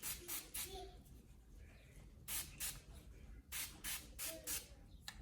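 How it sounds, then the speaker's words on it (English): A few short hissing bursts of a detangler spray being misted onto hair, in quick pairs and clusters, close and fairly faint, with soft vocal sounds in the background. "we're just gonna spray some detangler on my hair really quick"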